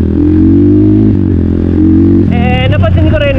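A 212cc CRF dirt bike engine on a track holds a steady, loud drone, then climbs sharply into a higher rev near the end, with a voice talking over it.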